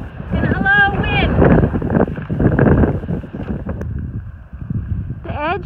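Gusty mountain wind roars across the microphone in a steady, loud rumble along a glacier trail, with a person talking over it for most of the stretch.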